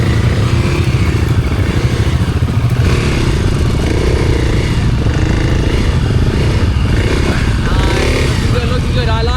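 Kawasaki KLX 300 dirt bike ridden on a motocross track, loud continuous engine roar with revving and shifting pitch, clattering and thumps from the terrain, a voice talking intermittently over the engine.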